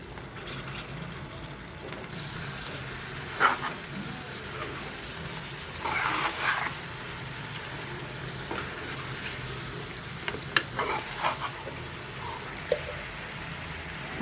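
Beef tripe dropped into a hot pan of fried ginger-garlic paste for gongura curry, giving a steady hiss and sizzle with a few sharper spits and pops, close by.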